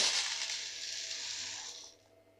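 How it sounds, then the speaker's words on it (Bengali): Puffed rice (muri) is poured into a bowl, giving a dry, even rushing hiss of grains that lasts about two seconds and then stops, with a quiet background and no talk. "প্রথমে আমি মুড়িটা দিয়ে দিচ্ছি।"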